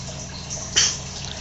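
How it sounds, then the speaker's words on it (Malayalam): Drain water flowing from a freshly started RO water purifier, a close, steady trickling hiss with one brief louder splash partway through. "RO നമ്മൾ സ്റ്റാർട്ട് ചെയ്തിട്ടുണ്ട്. പ്രൊഡക്റ്റ് വരാൻ തുടങ്ങി. അതിൻ്റെ ഡ്രെയിനാണ്."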